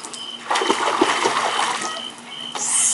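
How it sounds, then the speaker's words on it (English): A child kicks and splashes water while learning to swim, producing bursts of close splashing and sloshing with a short lull before more splashes. "Did you hear the splashes?"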